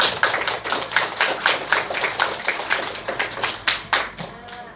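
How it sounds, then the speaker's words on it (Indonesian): A school class clapping hands together in a classroom, a rhythmic burst of fairly close, sharp claps repeated in quick succession before trailing off. "tepuk tangan untuk siapa?"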